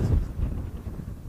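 Strong outdoor wind buffets the microphone in low, uneven rumbling gusts, loudest at the start and continuing without letup.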